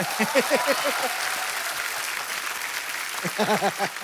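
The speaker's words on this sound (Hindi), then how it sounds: "तो बड़ा जोरदार तालियां।" Enthusiastic clapping from a television studio audience fills the whole stretch, with a speaking voice rising above it at the start and again near the end.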